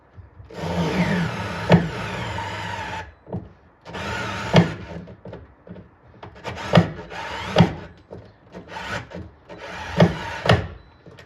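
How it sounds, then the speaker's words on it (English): A small power drill drives screws into the wood of a Stargate arcade cabinet during restoration, whirring and straining in several loud bursts separated by short pauses, close up and with no talking. "it's taking everything this little drill has got to put these into the wood down below"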